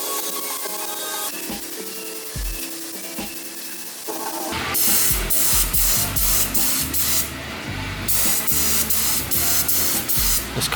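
Silver car paint with chrome flakes spraying from a spray gun in bursts, starting with short quiet hisses and then turning into loud, steady sprays with a few brief pauses.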